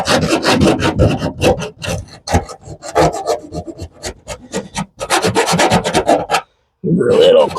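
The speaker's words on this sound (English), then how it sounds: "get the grinder out and really clean this up to open it up" A grinder cleans up a 4 5/8 inch fan hole cut in the metal roof of a Chevy Express campervan, giving a loud continuous rasping grind in bursts with short pauses, close up and alone.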